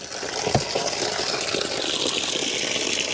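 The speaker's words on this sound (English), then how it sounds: "Look at the water flowing here." Water flows through a gutter strainer with a steady, close, hissing rush and trickle, continuous throughout with no talk.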